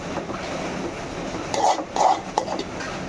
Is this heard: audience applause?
no